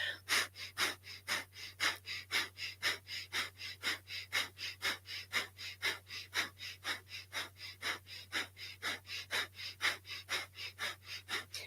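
Breath of fire, a rapid breathing exercise: forceful, evenly paced nasal exhalations, roughly two or three per second, loud and close, continuing without a break over a faint steady hum.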